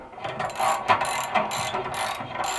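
A socket ratchet clicks steadily as it loosens an exhaust bolt on a Can-Am Outlander ATV, a close, dense run of rapid pawl ticks with no talk.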